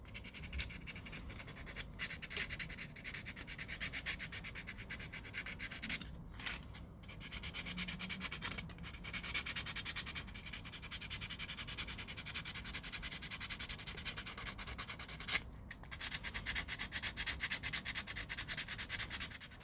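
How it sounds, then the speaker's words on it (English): Steady, close rasping rubs of sandpaper smoothing the fender of an old flea-market toy car, continuous strokes with a few brief pauses, no voices. "I want to smoothen this fender on both sides. I want it to be smooth and round."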